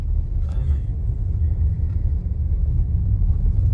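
A car engine hums with a low, steady rumble throughout, heard from inside the vehicle, with a brief faint voice near the start.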